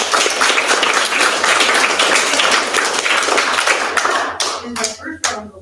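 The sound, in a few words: applause from audience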